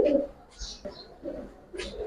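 Giribaz pigeons coo in soft, low repeated phrases, with brief fluttering or shuffling sounds between them, close by and fairly quiet.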